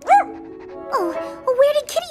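A cartoon dog gives several short, high yips and yelps, one near the start and a cluster toward the end, loud and close with no talk over them.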